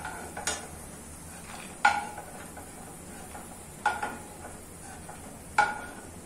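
Curry leaves frying with roasted peanuts in a hot pan give a soft, steady sizzle, with four sharp metallic clinks from stirring spaced about two seconds apart.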